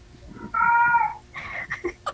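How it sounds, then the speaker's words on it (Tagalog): A stray cat meows twice nearby: first a clear, sustained call, then a shorter, broken meow, over quiet background noise. "Galang pusa. Hindi namin pusa."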